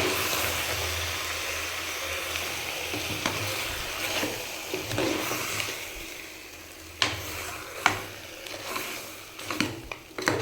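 Mutton with ground masala being stirred in a cooking pot, a low sizzle under scraping and sharp spoon knocks against the pot that grow more frequent toward the end, with no talk.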